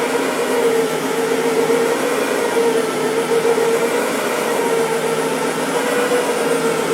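Brush Pro carpet cleaner with two counter-rotating brushes running steadily on carpet, a continuous loud motorized whir with an even hum that holds throughout without pause.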